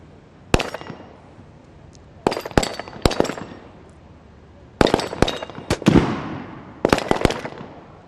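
Pistol shots ring out at a SWAT shooting challenge's pistol pen, sharp loud cracks in quick clusters of two to four with brief pauses between, no talking.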